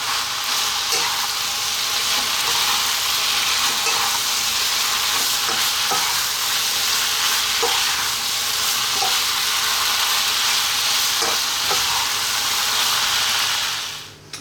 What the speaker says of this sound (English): We're going to incorporate the noodles with the meat sauce for about 3 to 4 minutes on this heat.